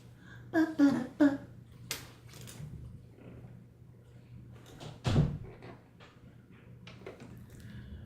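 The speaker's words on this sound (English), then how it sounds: "That door slam scared the crap out of me." A door slams shut in a home crafting space during quilting, a few sharp impacts early on followed by another thud, with quieter room noise and a steady low hum underneath.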